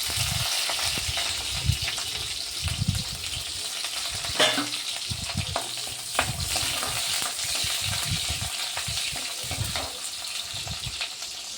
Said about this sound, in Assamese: পিঁয়াজখিনি দিলোঁ, এইখিনি অকণমান ৰঙচুৱা হোৱালৈকে ভাজি ল'ম